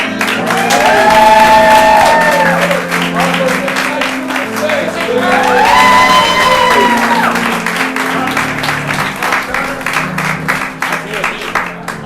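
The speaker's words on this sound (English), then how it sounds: "as a group, we will give a nice big round of applause" Audience applause and cheering from a live crowd at an event, a loud sustained wash of clapping with whoops and shouts rising in two swells, voices mixed in throughout.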